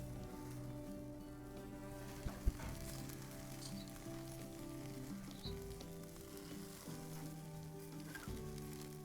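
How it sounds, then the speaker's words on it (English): Steady, quiet sizzling of pineapple on a hot braai grill, crackling continuously throughout with no one talking. "Chuck the pineapple right there. Listen to that sizzle."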